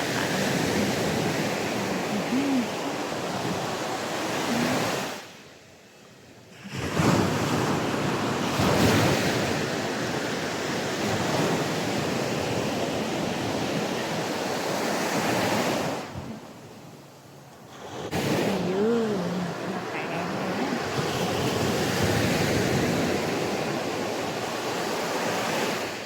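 Strong ocean waves pounding a Batangas beach on an overcast morning, a loud roaring surge of surf mixed with heavy wind buffeting the microphone, easing into two short lulls before crashing back in.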